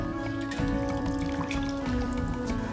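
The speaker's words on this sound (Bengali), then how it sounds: "এ দেখুন আমি জলটা ঝরিয়ে নিচ্ছি" Water draining from freshly made chhena strained through a clean cloth for nolen gur sandesh, a steady trickling and dripping that runs continuously at close range with no talk.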